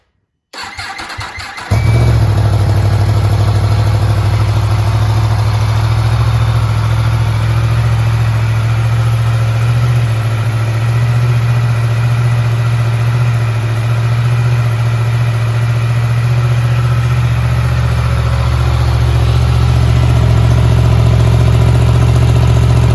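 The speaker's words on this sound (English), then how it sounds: "We have the modified valve in the open position. Let's start her up. Nice cold start." A Yamaha MT10 motorcycle with its exhaust valve held open starts from cold after sitting, cranking briefly before catching, then settling into a loud, steady, close-up idle that runs for the rest of the clip.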